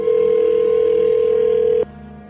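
Telephone dial tone while calling a Sam's Club store in Atlanta, a single loud, steady pure tone that cuts off abruptly near the end, leaving faint line hum.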